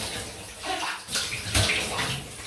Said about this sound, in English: it does take a lot of cold running water to rinse off an Ariana